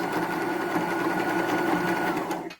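A sewing machine stitches denim jeans in one loud, continuous run of rapid needle chatter that stops abruptly at the end, with no talking.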